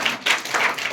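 An audience at a Christian teaching session claps loudly in a quick, brief burst of applause.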